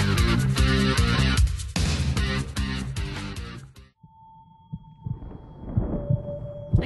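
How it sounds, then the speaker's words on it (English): Music plays for about four seconds on a news talk radio broadcast, then gives way to a heartbeat sound effect: low, soft throbbing pulses under steady electronic hum tones. "That kind of sounds like a heartbeat"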